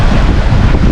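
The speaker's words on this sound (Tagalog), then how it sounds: "Mahangin sobra." Strong wind at sea roars and buffets the microphone continuously, a loud, rough rumble with no voices.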